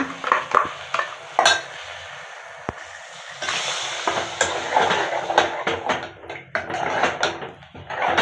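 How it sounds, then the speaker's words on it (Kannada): Ground masala for anjal fish sambar frying in a pot, giving a steady crackling sizzle with frequent sharp spoon clinks and scrapes against the metal that come in bursts and grow busier toward the end. "ರುಬ್ಬಿರೋ ಮಸಾಲೆ ಹಾಕೋಣ ಇದಕ್ಕೆ ಅದೆಲ್ಲ ಚೆನ್ನಾಗಿ ಫ್ರೈ ಆಗಬೇಕು"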